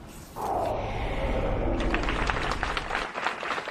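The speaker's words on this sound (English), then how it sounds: "Dozens of people applauded as Scott Hapgood and his wife Callie emerged from Darien Town Hall" Dozens of people applaud outside Darien Town Hall in a dense, steady burst of clapping that starts abruptly and holds at moderate loudness, heard from a short distance outdoors.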